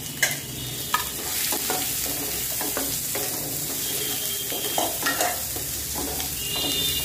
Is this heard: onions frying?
yes